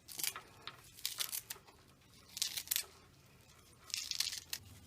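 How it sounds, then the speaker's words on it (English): Kitchen shears snipping garlic greens, several crisp cuts in short bursts with pauses between, close and fairly quiet. "And now with my kitchen shears, I'm going to cut the greens."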